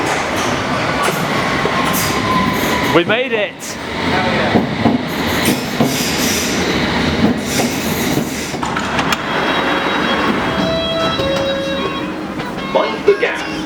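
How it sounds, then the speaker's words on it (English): A London Underground Metropolitan line train pulls into the station bound for Amersham, with rumbling wheels, clattering rail joints and squealing brakes up close, then hissing air and door chimes as people talk over it. "Train to Amersham, cool."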